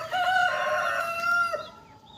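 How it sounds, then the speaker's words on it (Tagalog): A rooster crows loudly and nearby among chickens on a farm in Pampanga, one long drawn-out cock-a-doodle-doo call that trails off, with no talking over it. "ito pala yun, mga manok na to"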